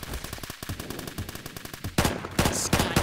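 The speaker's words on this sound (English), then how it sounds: "So if I want, I can snipe with this gun now" Rapid gunfire from a semi-automatic sniper rifle in the Roblox shooter Phantom Forces, with loud, closely spaced shots throughout and a heavier, denser burst near the end.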